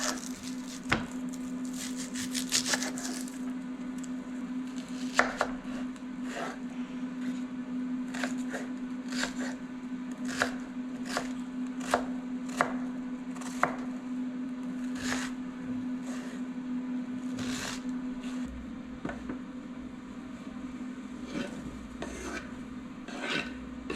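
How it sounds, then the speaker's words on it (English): Onion and garlic being knife-chopped on a cutting board for homemade tomato pizza sauce, a steady run of crisp, close knocks and scrapes over a constant low appliance hum, with no talk. "I'm about to cut up an onion and some garlic."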